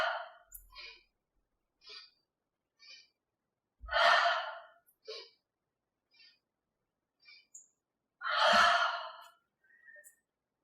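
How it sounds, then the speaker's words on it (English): Breath of joy yoga breathing: short inhales in three parts, then two big, forceful exhales heard close and clear, each followed by silence. "inhaling lower third, mid third, upper third, one breath, and then a big exhale as we drop our hands down"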